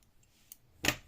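Scissors snip the yarn tail of a small crocheted cactus keychain, one short crisp cut near the end after a faint earlier click, in an otherwise quiet room.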